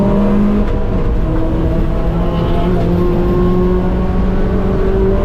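A race car engine holds steady throttle on the NCM track, a loud continuous drone with harmonic bands that rise and dip slightly as the driver modulates the pedal, with no talking over it.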